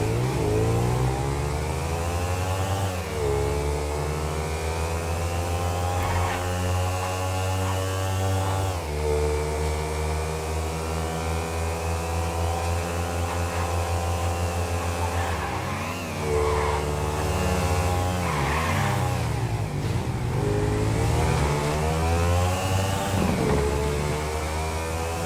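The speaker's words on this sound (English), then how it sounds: "this is called a thrust and it's a motorcycle" A Thrust motorcycle engine on a test ride runs loud and close throughout, repeatedly revving up and dropping back with a strong droning buzz, and no talk over it.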